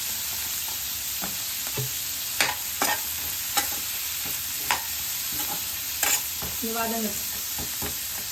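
Onions sizzle steadily in a pan while a utensil scrapes and clacks against the metal at irregular intervals, with the frying hiss forming a constant bed underneath.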